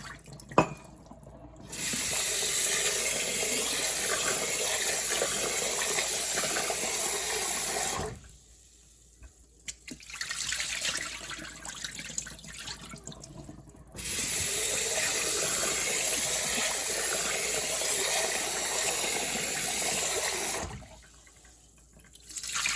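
Rice is rinsed under a running kitchen tap and drained three times, with long bursts of loud rushing water broken by short quiet gaps of dripping and draining.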